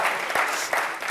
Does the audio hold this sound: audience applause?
yes